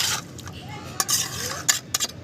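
A chicken mixture with a little water is stirred in a pot: a utensil scrapes and knocks against the metal in several short, uneven strokes, close and fairly loud.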